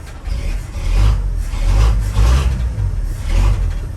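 A 1983 Ford F100 pickup truck engine idles rough, a low rumble steady up close, its note wavering and swelling slightly as if the throttle is given a touch.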